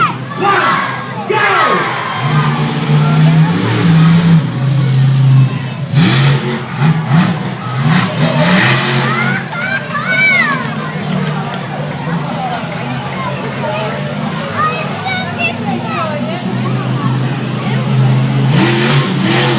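A monster truck engine revs loudly at an outdoor show, the roar rising and falling under a cheering, shouting crowd with children's voices throughout.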